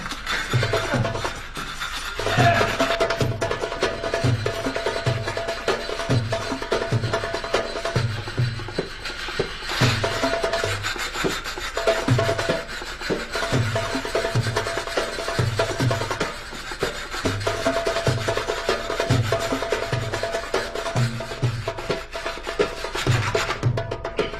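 A saw rasps back and forth in steady, repeated strokes against a metal chain, a harsh grinding rhythm that continues throughout at moderate loudness.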